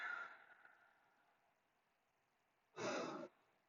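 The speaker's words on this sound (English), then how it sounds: "hug your knees tight into your chest. Take a couple deep breaths here." Slow deep breaths taken while lying with knees hugged to the chest: a soft, faint exhale fading out, a pause, then one short, stronger breath near the end, close and quiet.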